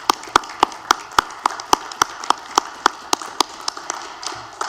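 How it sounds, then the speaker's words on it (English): At a school district Board of Education meeting, a round of applause for the Global Parent Network comes as crisp, evenly spaced claps with a steady rhythm, fairly close and loud. "let's just give the entire Global Parent Network a round of applause."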